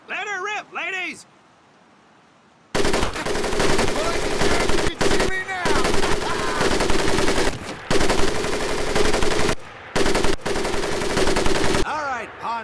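Sustained machine gun fire in Medal of Honor Pacific Assault: long, loud rattling bursts broken by a few short pauses, with a brief voice at the start and again at the very end.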